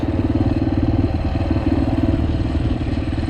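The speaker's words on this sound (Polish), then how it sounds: "motor sam zapieprza" A Yamaha TTR125 motorcycle engine runs steadily while being ridden, with a loud, continuous low throbbing drone and a slight clatter that stays even throughout, with no talk over it.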